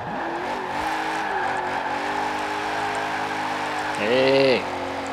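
A stock 2002 BMW M3-GTR in Forza Horizon 4 holds a steady engine drone with shifting pitch, then breaks into a short, loud tire squeal during a drift near the end, with a voice talking over it.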